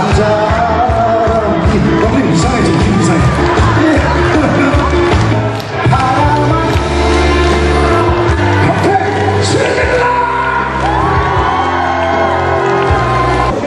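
Dense market crowd at a Pyeongtaek market, cheering and shouting together with lively festive music playing throughout, loud and continuous with voices layered over one another.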